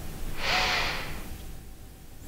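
A single sharp sniff at a scent pen during an odor sensitivity test, close and breathy, followed by quiet room hush.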